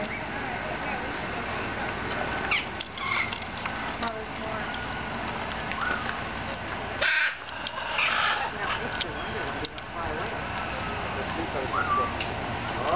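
Crow-like caws from birds at a jungle garden: several harsh calls spread through the clip over a steady outdoor background, moderately close, with people talking nearby.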